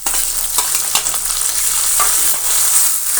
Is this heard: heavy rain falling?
no